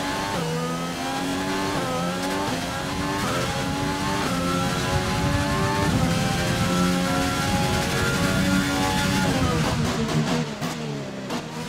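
Formula 1 car in the F1 2020 video game, racing at the Mexico Grand Prix, accelerating with a loud sustained high-pitched engine whine that climbs and shifts through gears for the whole stretch, close and steady.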